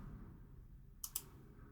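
A computer mouse gives two quick, crisp clicks close together on an installer prompt against a quiet room hum.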